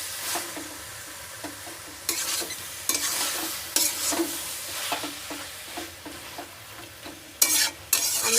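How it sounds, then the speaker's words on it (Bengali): Spinach with sugar stirred in a pan over a steady fry, crisp scraping strokes arriving in a regular rhythm roughly every second, close and clear over the background sizzle, no voices. "চিনিটা দিয়ে একটু ভালো করে নেড়ে নেব।"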